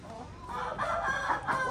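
Rooster crowing at a mini zoo, a single drawn-out cock-a-doodle-doo heard at moderate distance over a low background murmur.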